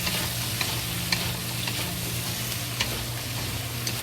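Carrots and pepper frying in a pan with sausage and cauliflower, a loud continuous sizzle with scraping stir strokes and occasional clacks of the utensil against the pan, with no voices.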